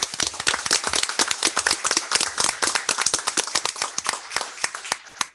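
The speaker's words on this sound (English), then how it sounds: "let's first give a round of applause to our champions" Applause from a group at a city council meeting honoring champions, many hands clapping in a brisk, dense burst that stays loud and then tapers off at the end.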